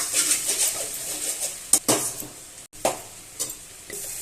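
A spoon stirs mango rice in a cooking pan, giving a run of soft scraping, clinking strokes with light sizzling, close and moderately loud, with no voices.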